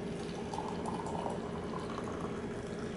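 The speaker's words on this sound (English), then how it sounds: "Press your plunger down and pour out your tea" Brewed tea flows from a French press in a steady, soft liquid trickle and splash that stays fairly quiet and continuous throughout.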